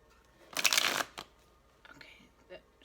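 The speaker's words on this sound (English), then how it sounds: "Alright, one more shuffle." Tarot cards shuffled in one brisk riffle lasting about half a second, followed by softer card handling and light taps, close up in a quiet room.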